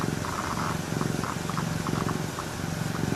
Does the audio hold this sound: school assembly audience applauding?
no